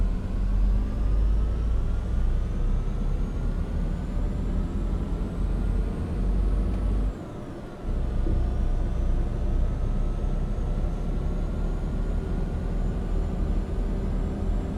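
Kenworth W900 truck engine droning while driving in American Truck Simulator, a steady low rumble with rising whine as revs climb, briefly dropping out around a gear change before resuming, fairly loud and constant.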